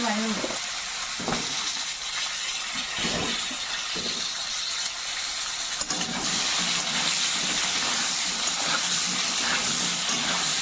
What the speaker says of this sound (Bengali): মাছ ভাজা তেলের মধ্যে আলুগুলো ভাজা করে নিচ্ছি।